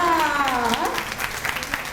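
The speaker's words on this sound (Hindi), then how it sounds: "अपने लिए खुद तालियां बजाइए" An audience of teachers in a Montessori education session claps together in a steady patter of applause, with a voice speaking over it at the start.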